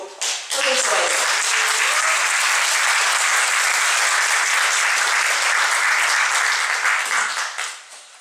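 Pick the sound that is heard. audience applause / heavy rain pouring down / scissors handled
audience applause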